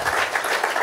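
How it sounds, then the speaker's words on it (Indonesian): A church congregation claps during a worship service, a brief burst of dense applause with no talking over it. "Tepuk tangan bagi Tuhan."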